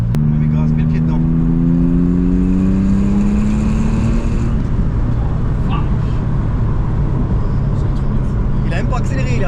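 A Porsche 911 Turbo engine holds a steady rev around 3000 rpm, a loud sustained drone with a pitch that rises slightly early on, while people talk over it throughout.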